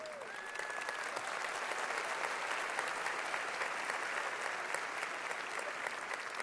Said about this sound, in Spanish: quiero que le den un buen aplauso